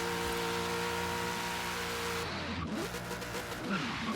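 A Ford Falcon in Forza Horizon 3 roars through a burnout, engine droning loudly at high revs before the pitch drops and tires squeal and scrub as it shifts.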